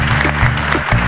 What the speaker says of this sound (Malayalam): കൈയടിക്കൂ ഗൈസ്.